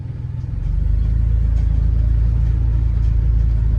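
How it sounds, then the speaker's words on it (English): A van engine turns over and settles into a steady, loud low rumble close by, running continuously after a brief start at the beginning. "I also went ahead and fired the van on."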